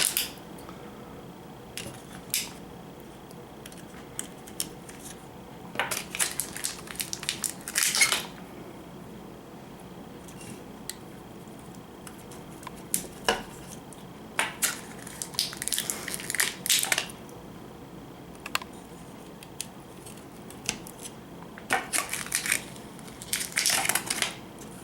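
New bulbs being pushed into the plastic reel-light sockets of an IGT S2000 slot machine, giving scattered close-up clicks, snaps and scraping handling sounds in short bursts against a quiet background.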